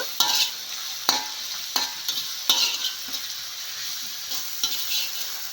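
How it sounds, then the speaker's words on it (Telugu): Ginger paste frying in a pan, a soft steady sizzle broken by about eight sharp scraping stirs of a spoon at an irregular pace, close and fairly quiet, with no voices. "దంచుకున్న అల్లం పేస్ట్ ఇది వేసినా కదా మంచిగా ఫ్రై అయిపోతే బాగుంటుంది"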